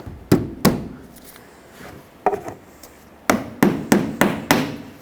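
Plastic push clips are snapped into a 2007-2010 Chrysler Sebring front bumper cover, giving sharp, close knocks and thumps in an irregular series, two early, a pair midway, then a quick run of five.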